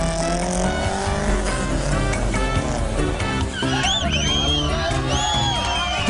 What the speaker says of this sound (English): Look, here are some more good cars.